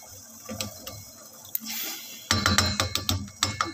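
A cup of ghee is poured into sugar syrup for suji halwa: a short liquid splash and pour, surrounded by small clinks and taps of kitchen utensils, close and fairly quiet.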